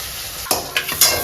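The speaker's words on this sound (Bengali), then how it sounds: "চিংড়ি মাছ পুরো ভাজা হয়ে গেছে" Shrimp sizzles steadily in hot oil in a pan while making a Bengali-style taro and shrimp curry, with a few sharp scraping clatters as the pieces are stirred.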